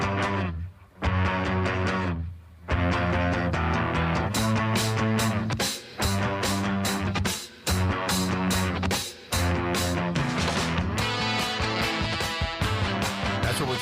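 Loud recorded band music with a brassy rock sound, played back at a zoo event and filling the whole stretch with dense full-band chords and only brief dips between phrases.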